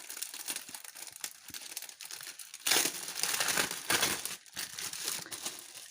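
A plastic pack of A4 sheet pockets being torn open, with continuous crinkling and crumpling of plastic film that swells louder midway, close and alone.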